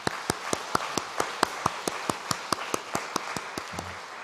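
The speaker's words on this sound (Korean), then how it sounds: "주님께 영광의 박수 올리겠습니다." Steady, evenly spaced rhythmic clapping from a church congregation at a Friday late-night prayer service, sharp unison claps at a brisk regular beat over a soft background, with no talk.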